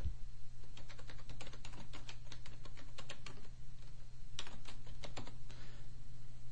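Rapid, uneven clicking of fingers typing on a computer keyboard, close and clear, with a brief pause near the middle before a fresh burst, over a steady low electrical hum.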